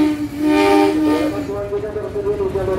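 A freight train carrying crystal stone ballast shunts at an Indonesian station, giving a loud, sustained horn-like tone with a steady rumbling underneath.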